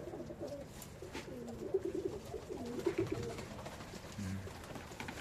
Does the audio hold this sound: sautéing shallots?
no